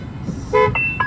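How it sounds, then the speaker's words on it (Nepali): Horn of a Riddara EV 2WD electric truck sounds in a few short, clear electronic toots close by, the second and third briefer than the first. "हर्न पनि तपाईँले सुनाइदिउँ न है"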